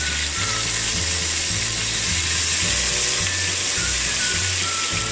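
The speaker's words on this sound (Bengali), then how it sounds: "আমি পেঁয়াজটা হালকা একটু বাদামি করে নেব" Onion paste sizzles in hot oil with spices in a pan for a Bangladeshi chicken jhal fry, giving a steady, close frying hiss over a low, pulsing background hum.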